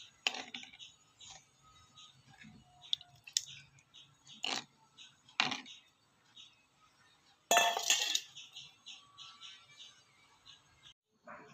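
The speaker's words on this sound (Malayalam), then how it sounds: "ഇനി നന്നായിട്ടൊന്ന് മിക്സ് ചെയ്യാം." Tamarind juice and coconut curry are stirred together in a bowl, giving sparse clinks and wet scraping taps of a utensil against the dish with quiet pauses between strokes and one louder knock near the middle.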